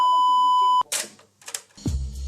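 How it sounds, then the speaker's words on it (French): A steady high-pitched censor beep sounds for nearly a second, then cuts abruptly to brief clattering noises and a low tone. "Ça faisait bip et ça ruinait la chanson."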